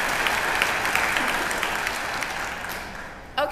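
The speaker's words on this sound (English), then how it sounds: "So give yourself a round of applause." An audience at an Easter Sunday church gathering applauds, a sustained, dense clapping from many hands that holds steady, then gradually thins and fades before a brief sharp noise at the very end.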